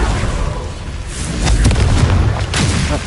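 A Confringo fire-blast spell explodes in Hogwarts Legacy, a loud rumbling boom that swells and rolls for several seconds, close and dense, with no talking.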